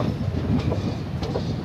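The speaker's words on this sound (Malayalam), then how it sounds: "ഇപ്പോൾ നമ്മൾ പാളം മാറിക്കൊണ്ടിരിക്കുന്നത്, നമ്മൾ വന്ന പാളത്തിൽ നിന്ന് ഇപ്പുറത്തോട്ട് തന്നെ മാറിക്കൊണ്ടിരിക്കുകയാണ്" A train heading for Chennai MGR Central crosses over from one track to another, giving a steady low rumble with light clattering of wheels over the points, heard from on board with no talk.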